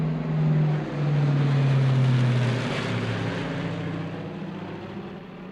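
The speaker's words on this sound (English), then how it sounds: "Here comes the Connie in for his landing." A Lockheed Constellation propeller airliner comes in to land at an air show, its piston engines giving a loud, steady droning roar with a low pulsing hum that slowly eases as it passes.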